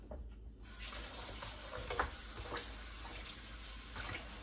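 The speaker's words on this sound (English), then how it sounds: "I'm gonna rinse it a little bit." Thinly sliced cabbage being rinsed under a running kitchen tap before pickling: a steady, close hiss of flowing water that continues without a break.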